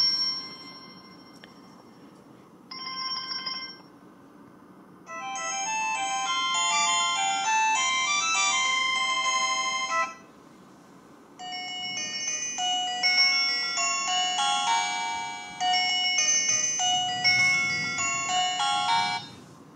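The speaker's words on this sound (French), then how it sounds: "le type de sonnerie, enfin le type d'alarme, donc là on a toujours 3 sonneries" Alarm ringtones of a LEMFO DT35 smartwatch: a sequence of electronic chiming melodies, one short beeping tone followed by bright, bell-like musical phrases that stop and restart, clear and close with no voices.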